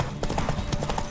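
Horse hooves clip-clop at a gallop in The Witcher 3, a quick steady rhythm of close, moderately loud hoofbeats over a faint game backdrop.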